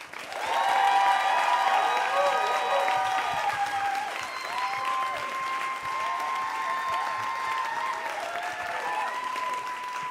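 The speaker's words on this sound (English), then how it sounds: "round of applause for Iman, Ahmed." Sustained applause from an audience at a Moth Community Showcase storytelling event fills the whole stretch, steady and fairly loud, with a faint murmur of crowd voices underneath.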